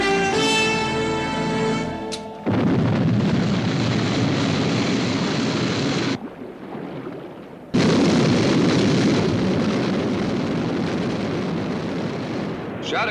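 An aircraft lifting off in the UFO television series: a rising whine gives way to a loud roaring blast that cuts out briefly, then returns as a sustained thunderous rumble.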